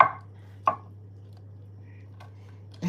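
A sharp knife chops food on a board in a quiet room, with two crisp separate cuts and a third at the end, steady low hum between them.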